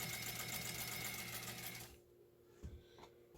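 Pink Adler Class 15 clone sewing machine stitches fabric in a steady, close mechanical whir that stops about halfway, followed by quiet handling clicks.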